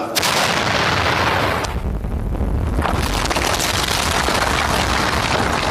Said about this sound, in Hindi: अचानक एक तोप का गोला छूटा।